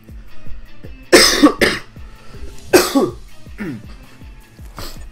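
A man has a coughing fit during a Pokémon card game session, with several harsh coughs and throat clearing in close clusters over a low hum.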